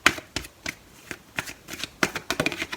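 A deck of tarot cards being shuffled and drawn, a series of crisp riffling bursts and flicks in an irregular rhythm, close and fairly quiet with no talking.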